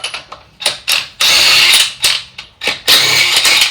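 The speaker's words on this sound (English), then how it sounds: "I'm just zipping them off with this, and yes, I'm using a chrome socket on an impact." Impact wrench with a 22mm chrome socket zipping lug nuts off a Chevy truck wheel, a series of loud, close bursts of rapid hammering, some short and some sustained, separated by brief pauses.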